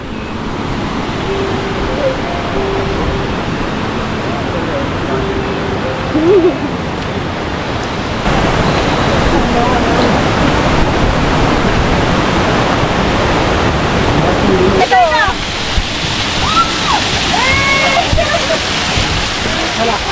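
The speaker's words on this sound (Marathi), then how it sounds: "धबधबा तुम्ही पाहू शकता या ठिकाणी" Constant heavy roar of a waterfall in the Andharban forest of the Sahyadri fills the scene throughout, with trekkers' voices talking faintly underneath.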